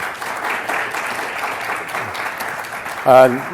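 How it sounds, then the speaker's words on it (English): Applause from a conference audience after a panel, a moderate patter of many hands spread across the room, with voices talking over it and a brief louder tone near the end. "a round of applause for our..."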